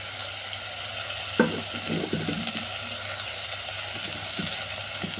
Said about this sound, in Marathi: आता हे छान भाज्या या सगळ्या आपण परतून घेणार आहोत.